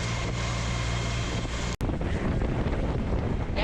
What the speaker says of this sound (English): it's blowing 22, 25-ish still, but I will say it's a really warm wind